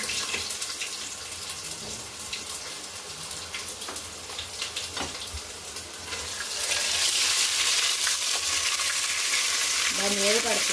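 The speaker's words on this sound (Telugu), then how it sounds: "చూసారంటే బాగా ఫ్రై అవుతుంది" Ginger garlic paste fries in hot oil for biryani, a steady close sizzle with stirring scrapes that grows louder and hissier partway through.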